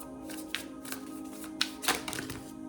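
Tarot cards being shuffled by hand, a steady papery riffle with a few sharper snaps and taps, close and fairly quiet with no talking.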